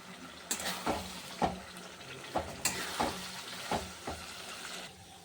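A fried spice paste seasoned with salt and turmeric sizzles in a pan as fish oil is added, with a soft continuous hiss broken by several sharp clinks and scrapes of a spoon against the pan, close and without speech.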